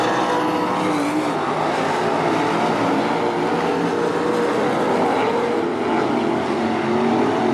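Field of 305 sprint cars in a heat race at Attica Raceway Park, engines roaring loud and continuous in a dense wall of sound with rising and falling pitch as cars circle the dirt oval.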